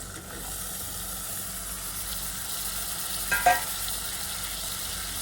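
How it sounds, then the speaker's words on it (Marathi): Eggplant and potato pieces frying in hot masala for vange batata bhaji, a steady close sizzle and hiss with one brief clatter midway. "तर आता यामध्ये आपण वांगे बटाटे ॲड करूया।"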